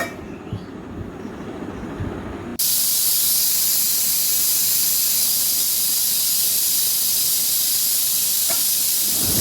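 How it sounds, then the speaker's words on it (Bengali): A gas stove burns under a pot of eggs and bean seeds set to boil together. A low quiet background gives way after a couple of seconds to a loud, steady, close broadband hiss of flame and bubbling that continues unbroken to the end. "গ্যাস অন করে দিয়েছি এখন ডিম আর সিমের বীজ একসঙ্গে সিদ্ধ করে নেব"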